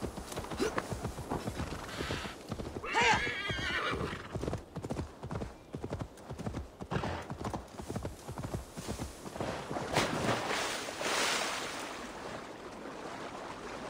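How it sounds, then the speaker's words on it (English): A horse in a video game, its hooves clip-clopping steadily with a brief whinny, under a background voice and some splashing. "Horsey."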